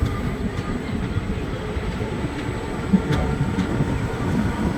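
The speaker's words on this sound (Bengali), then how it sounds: "আমাদের ট্রেনের পরবর্তী হল্ট ছাড়লো আলুয়াবাড়ি রোড।" A passenger train on the run from Aluabari Road toward New Jalpaiguri, heard from inside a 3AC coach as a steady low rumble with faint rhythmic rail clicks and no voices.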